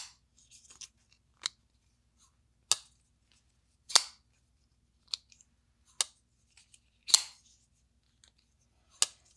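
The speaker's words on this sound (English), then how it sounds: "How does this knife sound?" Civivi Nugz folding knife with a black stonewashed blade coating, its blade snapping open and shut in sharp, isolated metallic clicks spaced about a second apart, close and otherwise quiet.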